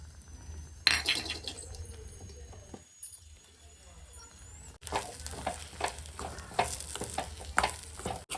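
Cashews and raisins fry in ghee for a Tamil kesari sweet, giving a steady, close sizzle with occasional stirring scrapes and clinks, soft early on and busier in the second half.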